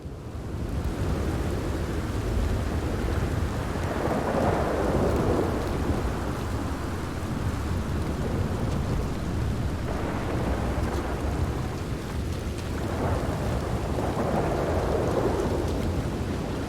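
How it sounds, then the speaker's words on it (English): Heavy rain pours steadily in a Red Dead Redemption 2 thunderstorm while deep thunder rumbles swell and fade several times, loud and enveloping, with no voices. "Stormy, isn't it?"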